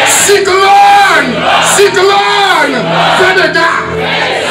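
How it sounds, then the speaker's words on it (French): A church congregation shouts a prayer together in the name of Jesus, loud massed voices rising in repeated swelling cries and yells, close and energetic throughout. "On crie au nom de Jésus."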